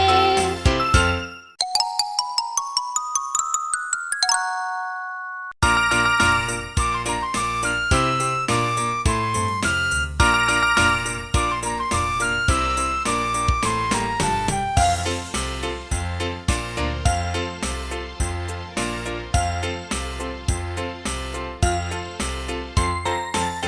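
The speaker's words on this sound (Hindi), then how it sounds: "टिंग टिंग टिंग टिंग टिंग टिंग घंटी बजाते हुए सांता क्लॉज आ रहा है हंसते गाते हुए।" Bright jingling bells and chimes ring in a lively, rhythmic festive tune, opening with a rising run of tinkling notes before steady repeated ringing.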